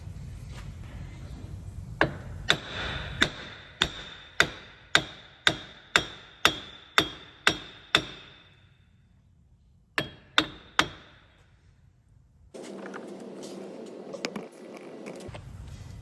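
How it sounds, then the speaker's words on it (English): A hammer strikes a wheel hub nut on a Mk3 Ford Focus in a steady series of about a dozen sharp, ringing taps, then three more after a pause, with workshop noise around them. "I'm just going to tap it with an hammer, just see if we can just crack it off so it's free"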